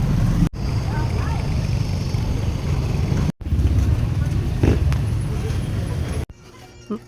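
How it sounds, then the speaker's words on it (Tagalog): Steady, loud rumble of road traffic passing close by, continuous apart from a couple of brief cuts, with faint voices mixed in. "Alright, traffic."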